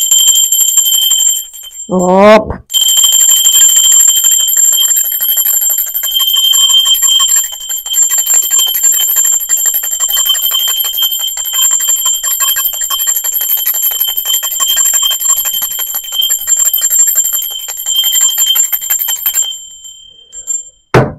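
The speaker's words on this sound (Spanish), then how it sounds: "Para los nuevos les cuento que la campana es una energía de frecuencia muy alta." A single bright bell strike rings out early and then sustains a long, shimmering high tone that slowly fades over many seconds, with a brief exclamation just before the strike.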